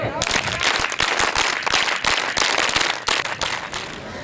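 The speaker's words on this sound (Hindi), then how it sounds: "हम सभी जोरदार तालियों के साथ उनका स्वागत करेंगे, लेकिन स्काउट की ताली के साथ" A group of scouts and guides claps together in a loud, dense burst of rapid hand claps that carries on steadily for a few seconds, a scout-style welcome for a guest at an assembly.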